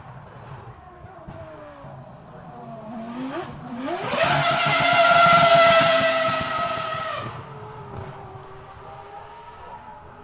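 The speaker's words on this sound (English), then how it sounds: "in case you're wondering what a choked V10 sounds like" A choked 2006 Formula 1 V10 racing engine revs hard and climbs to a loud, strained high-pitched scream, holding briefly before dropping away, heard alone without talk.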